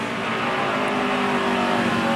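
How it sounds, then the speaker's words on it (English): Onboard engine of Elliott Sadler's stock car during the 2011 Kroger 200 race, a loud, sustained roaring drone with steady high revs and no talk over it. "On board with Sadler. Let's listen"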